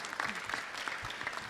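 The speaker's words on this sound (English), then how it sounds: "Please, big applause." A short burst of clapping from a panel audience at a conference, a brisk patter of many hands at moderate volume.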